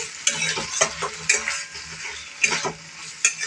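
A spatula scrapes and clacks in a pan as fried chicken is tossed with curry leaves, sharp irregular strokes every second or so over a soft sizzle, close and clear.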